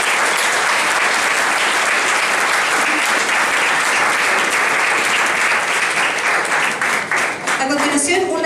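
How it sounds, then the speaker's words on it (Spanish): A school audience gives loud, continuous applause that fills the room for several seconds before tapering near the end, where a voice begins speaking over the fading clapping. "Un aplauso para ellos también"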